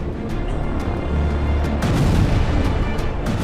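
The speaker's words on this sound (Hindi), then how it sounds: "इस बार खान यूनिस में आईडीएफ ने लगातार कई बम बरसाए" Bombs bursting in an airstrike on Khan Younis, a dense run of heavy booms and rumbling blasts that overlap one another, loud and continuous.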